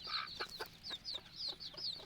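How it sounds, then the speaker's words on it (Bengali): Young domestic chicken chicks peep in a rapid series of high, thin chirps, several per second and fairly close but soft, with no talk. "এই দেখেন, এই নিচেও আছে কিছু মুরগির বাচ্চা।"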